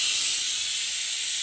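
A pressure cooker holding lentils and greens stalks lets out a loud, steady steam whistle, a bright continuous hiss that carries through the whole moment with no voices.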